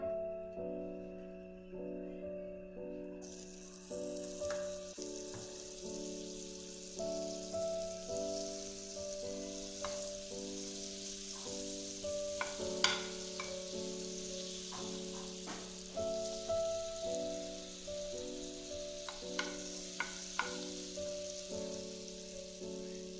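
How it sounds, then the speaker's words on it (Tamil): Butter melts in the same pan used for white sauce pasta, giving a soft, steady sizzle and crackle under continuous background music. "அதே பேன்லயே பட்டர் சேர்த்துக்கலாம்."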